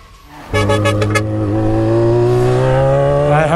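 A Yamaha XJ6 motorcycle fires up and accelerates hard, its loud, close engine note climbing steadily in pitch after a short burst at the start.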